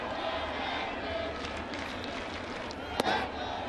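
A baseball stadium crowd of about 41,000 hums as a distant, steady murmur, with a brief sharp burst near the end, while a voice talks over it.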